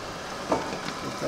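Garlic hits hot homemade hemp olive oil in a pan, giving a soft crackling sizzle with a brief louder burst partway through, close by and fairly quiet.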